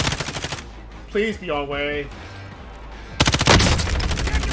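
Bursts of rapid automatic gunfire in Call of Duty Warzone, a loud close rattling burst at the start and another heavier burst near the end, with a voice speaking briefly in the quieter gap between them.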